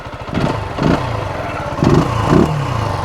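A small Zontes Urban 125cc motorcycle engine runs close by, idling with a rough putter and twice swelling briefly in quick revs.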